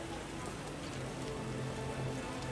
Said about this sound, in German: Es regnet und es schüttet.